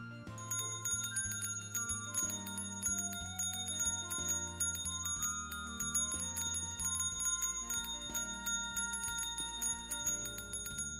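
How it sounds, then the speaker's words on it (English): A shop counter bell in Hanako's Flower Shop rings over and over in quick succession, bright metallic dings piling up into a dense, continuous jangle with no talking. "I just had the sudden urge to just click the bell a bunch."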